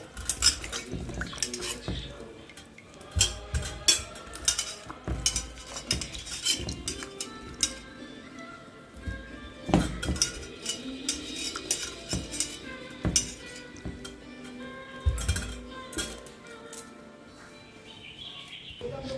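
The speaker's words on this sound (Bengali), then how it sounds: "এবার আমরা এই আমগুলোকে এই জলের পাত্রে ভালো করে ধুয়ে একটা পাত্রে অন্য একটা পাত্রে তুলে নেব" Mangoes are washed by hand in a bowl of water and moved to another bowl, making a long run of close clattering, knocking and splashing sounds, with faint birdsong in the background.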